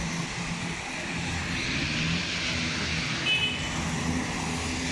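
An airplane flies overhead near the airport in Dubai, a steady broad engine roar that holds loud and constant throughout, with no talk.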